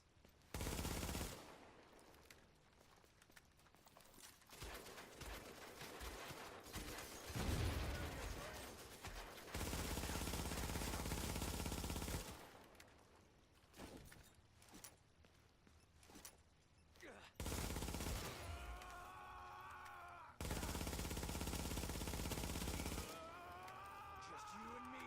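Gunfire in Tom Clancy's The Division, loud bursts of automatic fire alternating with quieter gaps over about 25 seconds, with someone talking over parts of it.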